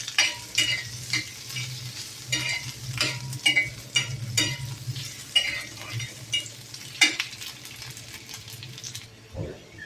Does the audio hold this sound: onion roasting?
yes